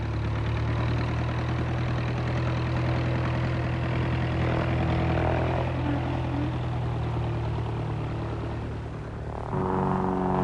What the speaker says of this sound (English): then we'll take off down the runway.